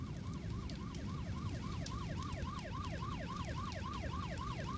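Ambulance siren in the horror video game Nightmare House 2, a steady rapid wailing sweep repeating about every third of a second over a dense low rumble, loud and continuous with no talk.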